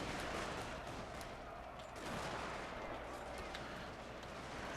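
Massed infantry gunfire from a Total War Shogun 2 Fall of the Samurai battle, a steady dense crackle of musket volleys throughout, moderately loud under a continuous battlefield din.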